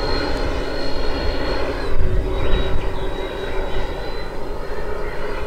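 A giant radio-controlled Airbus A350 XWB model airplane flies in to land, its engines giving a steady, loud droning whine with a brief swell midway.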